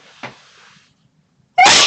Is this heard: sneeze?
yes